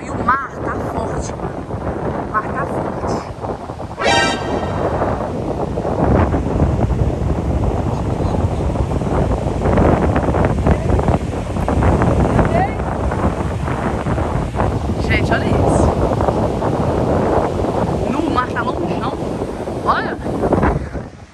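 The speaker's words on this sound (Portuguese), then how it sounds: "Não, e o mar tá forte." Loud, continuous roar of wind and heavy, rough surf at a beach in rain, blustery and close, with occasional voices faintly underneath.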